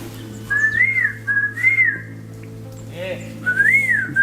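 A person whistles in three rising-and-falling phrases, loud and close, over a steady low hum inside an abandoned post-Soviet nuclear military base.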